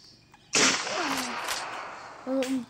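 A sharp gunshot in a jungle hunting video game cracks out loudly and decays into a lingering burst, with short voiced sounds over it and a second louder hit near the end.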